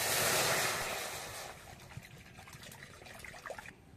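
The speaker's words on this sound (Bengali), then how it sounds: "সিঙ্গারা পুরের জন্য প্রথমে কড়াইতে জল দিয়ে দিচ্ছি।" Water poured into a wok to steam vegetables for samosa filling makes a brief rushing pour for about a second and a half, then fades into soft trickling and faint splashes.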